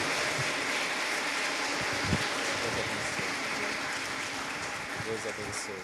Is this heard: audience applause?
yes